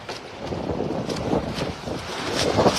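Strong gusty wind buffets the microphone in Oroquieta City, a steady loud roaring rush with surging peaks and no talk, continuous throughout.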